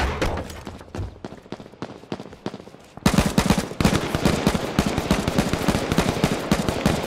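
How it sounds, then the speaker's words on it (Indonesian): Rapid automatic gunfire in a battle royale game, a steady rattle of shots that starts moderately and then jumps louder and denser, hammering on continuously. "Dia nembakin."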